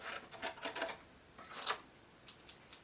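Scissors snip through a piece of cardstock in a quick burst of crisp, close cuts, followed by a few fainter separate snips after a short pause.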